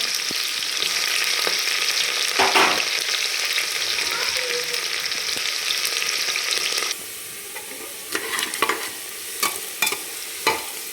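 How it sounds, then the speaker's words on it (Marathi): Sliced onion fries in hot oil with a loud, steady sizzle and occasional stirring scrapes, then the sizzle drops away, leaving quieter spatters and sharp clinks of a utensil against the pan. "उभा तो कांदा टाकू कांदा चांगला गुलाबी कलरवर आपल्याला परतून घ्यायचा"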